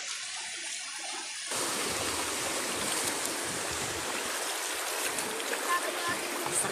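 Strong waves wash against a seashore with a broad, continuous roar of surf that swells suddenly after a quieter opening and stays loud and close.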